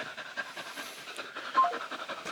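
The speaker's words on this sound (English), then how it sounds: "So you might have heard a lot of hot breathing over there" An overheated dog pants heavily and rapidly at close range, a steady run of quick breathy huffs with no talking.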